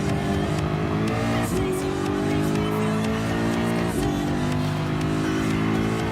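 Ford GT LM Spec II race car in Gran Turismo Sport, its engine droning loud and steady throughout, with rising revs through the gears and two brief shift dips before climbing again.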